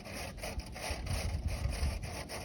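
A chimney brush scrubs inside the flue in quick repeated strokes, a close rough rasping and scraping with a low rumbling rhythm.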